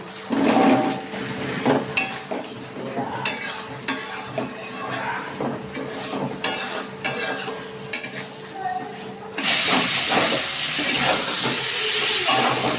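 Potatoes stir-fry in spiced oil in a pan for a stretch of scraping and clattering against the metal over a low sizzle, which then gives way to a steady, louder hiss.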